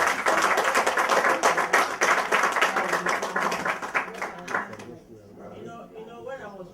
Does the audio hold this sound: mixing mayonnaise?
no